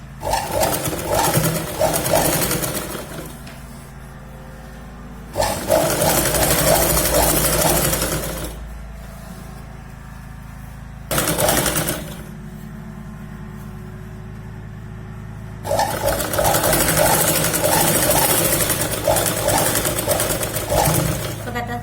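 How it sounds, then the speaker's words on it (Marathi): A sewing machine stitches Punjabi dress fabric in bursts of rapid, loud mechanical whirring, separated by quieter pauses in which a voice talks over a low hum. "दुसऱ्या पॉइंटला आता आपण शिलाई लावायला सुरुवात करतोय."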